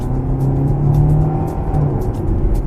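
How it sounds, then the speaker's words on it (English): 2025 Hyundai Tucson accelerating, a steady, moderately loud engine drone with rising whir and road noise from inside the cabin, no voices. "Let's accelerate."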